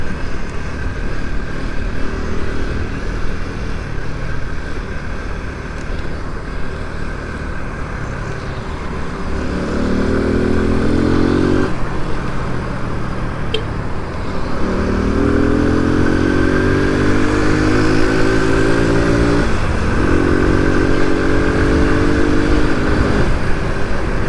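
A Rio 125 motorcycle rides along, its small engine droning steadily over road and wind noise, with repeated rising revs as it accelerates through the gears.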